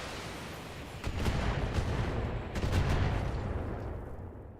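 Missile barrage explosions from the mech combat game BattleTech go off in a dense, rumbling series, with heavier booming bursts near one second and again around two and a half seconds before fading.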